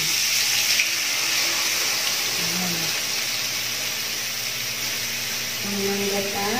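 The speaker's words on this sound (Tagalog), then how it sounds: "Lagyan natin yung unang gata." First-press coconut milk pours in a steady, continuous stream into chicken-feet adobo in a pot, a close, even liquid rush.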